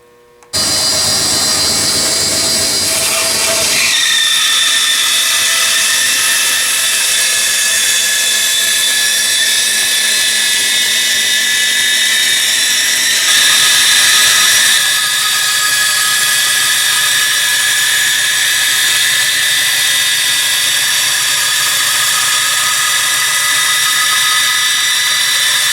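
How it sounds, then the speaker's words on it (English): A power saw resaws wooden 4x4 posts into thin 3/16 inch slats, whining loudly and steadily at close range after a short rough start, running continuously throughout. "I'm going to resaw the 4x4s down into 3/16 inch thick slats"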